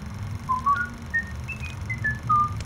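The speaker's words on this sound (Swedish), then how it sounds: "visslade glatt en liten visa" Someone whistles a cheerful little tune: a string of short, clear, bright notes hopping up and down in pitch, fairly soft against a low background murmur, with no talking.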